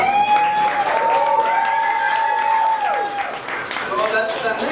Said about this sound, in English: Round of applause for that right now.